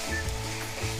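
Spice paste sizzling and frying as it is stirred into cooked jackfruit for a traditional Kerala mashed jackfruit dish, a steady, fairly loud crackle with soft stirring sounds, no voices.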